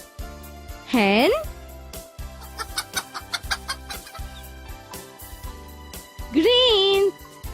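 A hen clucks in two loud, rising-and-falling calls near the start and end, with a rhythmic tinkling, jingling melody playing between them.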